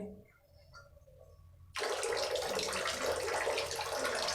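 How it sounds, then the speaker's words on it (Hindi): Water suddenly gushes from the tap of an instant electric geyser, a close, steady hiss of running flow that starts abruptly after quiet clicking and handling noises. "मैं इधर से पानी खोल देता हूँ"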